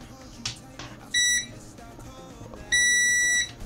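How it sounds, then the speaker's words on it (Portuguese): Two sharp high-pitched electronic beeps from a multimeter continuity test on a relay, the first short and the second longer, sound over faint background clatter. "Deixa eu até botar no bip aqui para comprovar."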